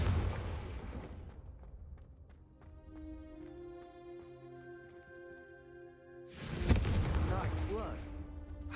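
The Confringo fire spell in Hogwarts Legacy goes off with loud booming blasts at the start and end, and a ringing magical tone sustains between them. Light chatter is mixed in.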